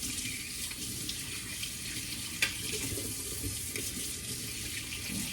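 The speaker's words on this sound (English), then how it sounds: "I better wash the Sichuan oil off of here" Tap water running steadily into a sink while Sichuan oil is rinsed off a utensil, a close continuous hiss and splash with one brief knock partway through.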